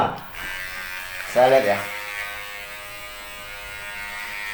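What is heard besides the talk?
Kemei 2713 or WMark hair trimmer running at low RPM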